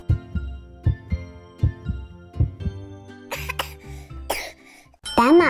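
A child coughing during a pretend doctor's check-up with a Baby Annabell doll: about eight short, evenly spaced coughs, close and clear, followed by a few rougher throaty sounds.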